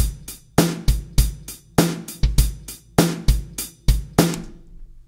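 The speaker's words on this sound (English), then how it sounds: "And there's my hi-hat sound." Sampled hi-hat triggered from the EXS24 sampler in Logic Pro, ticking out a steady run of crisp eighth-note hits, close and dry, with brighter accented strokes recurring in a regular pattern and no voices.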